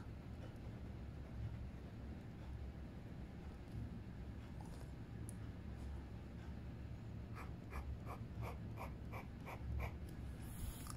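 Kaigelu fountain pen nib inked with Pilot Black scratching across paper in a close, soft, steady scritch, faint under a constant low background rumble, with a series of short rhythmic strokes toward the end.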